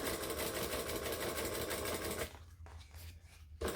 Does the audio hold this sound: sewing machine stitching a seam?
yes